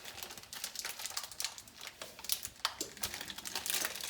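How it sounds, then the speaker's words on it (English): Plastic wrapper being pulled off a block of cheese in a home kitchen, a close, fairly quiet stream of crinkling and crackling that comes in uneven bursts with no talk. "Try and get it out the wrapper."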